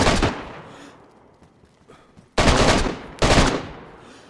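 DayZ gunfire rings out as one sharp burst, then two heavy close bursts of rapid automatic fire a second apart, with faint pops in the quiet gap between them.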